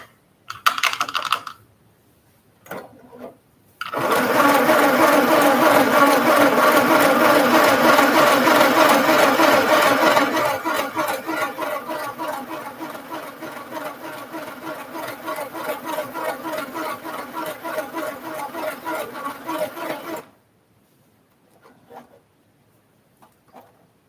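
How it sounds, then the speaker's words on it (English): Sewing machine running a mountain stitch, starting after a few brief clicks with a steady, fast, loud mechanical chatter that eases slightly partway through, then stopping abruptly. "Lower your presser foot gently, then start sewing."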